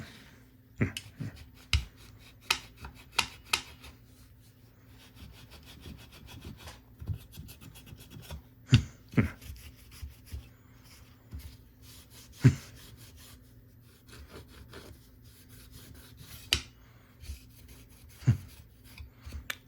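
Cloth wiping out the inside of a Singer 401A sewing machine during servicing: repeated dry rubbing and scraping strokes with sharp clicks and knocks in irregular bursts, close and fairly quiet, with pauses between.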